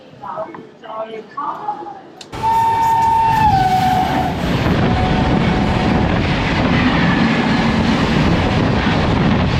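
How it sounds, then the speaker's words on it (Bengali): A Shatabdi Express pulls into platform three at Bandel Junction: a loud, steady rumble of wheels and cars begins abruptly after a quieter opening and lasts to the end, with a high tonal squeal or horn-like note early on. "ট্রেন কিন্তু এখন এসে ঢুকলো ব্যান্ডেল জংশনের তিন নম্বর প্ল্যাটফর্ম"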